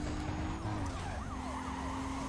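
Police car sirens wail in the Need for Speed: Carbon video game, several overlapping rising and falling tones sweeping repeatedly over a steady engine drone and road noise, fairly loud throughout.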